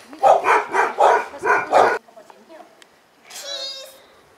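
A dog barks five times in quick succession, loud and near, then falls quiet before a person's voice speaks briefly afterward.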